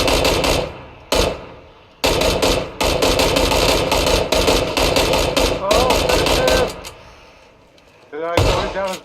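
Shotgun fire in the PUBG video game: loud, close blasts in rapid repeated bursts with brief gaps between volleys.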